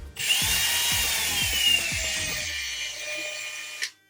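A power drill whines steadily at high pitch with rhythmic low knocks as it bites into material, then cuts off abruptly near the end.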